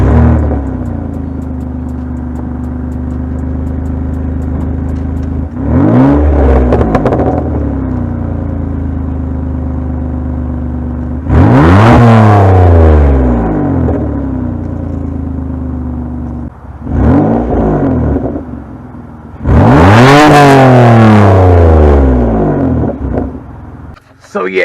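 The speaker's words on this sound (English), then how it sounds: "most definitely the exhaust is pretty, it sounds really good." Kia Sorento fitted with an aftermarket cat-back dual exhaust revs repeatedly from idle, each blip rising to a loud, close roar and falling back to a steady drone.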